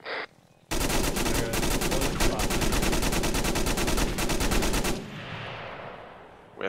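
Sustained loud automatic gunfire from a squad in a military video game, rapid dense bursts running about four seconds after a brief quiet start, then cutting off into a fading echo.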